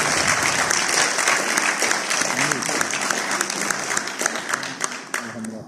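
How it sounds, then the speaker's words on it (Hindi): An audience applauding at a stage performance, sustained dense clapping from a crowd that thins slightly toward the end, with a voice talking over it. "बहुत सारी तालियां शीबा वास्ते।"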